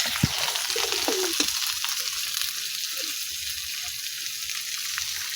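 Fish bhuna with onion and green chillies fries in a pan, giving a steady close sizzle broken by light scraping stir strokes, with no talk.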